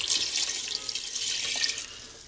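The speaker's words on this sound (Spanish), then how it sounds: "Le voy a agregar una taza de agua." A cup of water poured into a cooking dish holding chicken legs, a bright splashing trickle that runs steadily for a couple of seconds and then eases off, close and alone.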